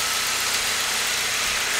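A 2008 Saab 9-3 2.0T engine under random misfire diagnosis idles with a steady, close-up mechanical hum and a broad hiss, holding an even level throughout.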